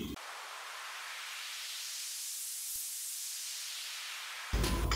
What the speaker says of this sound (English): And there's a lot of white noises here.